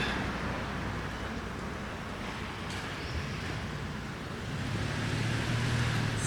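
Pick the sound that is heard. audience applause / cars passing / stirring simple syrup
cars passing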